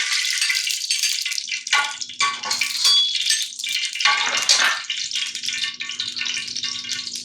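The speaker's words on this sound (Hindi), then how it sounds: "ये मैं घी डाल रही हूँ।" Ghee sizzling in a cooking pot, a bright crackling fry that comes in uneven surges with a few louder bursts, heard alone without talk.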